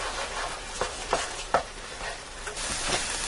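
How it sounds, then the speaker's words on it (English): Ground beef sizzles steadily with onion and garlic in a Ninja cooker pot nearby, broken by occasional scraping stirs of a utensil and a few louder clicks. "I'm going to continue frying my hamburger till it's done"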